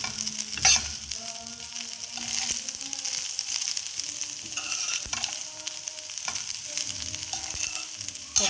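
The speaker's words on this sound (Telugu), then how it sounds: "ఒక 1 నిమిషం పాటు ఈ మసాలాలన్నీ ఈ రైస్కు పట్టేలాగా మనం ఇలాగ కలుపుకుంటూ ఉండాలి" Basmati egg fried rice being stirred with masala in a hot pan: continuous close sizzling broken by repeated scraping and clacking of a spatula tossing the grains, with no talk.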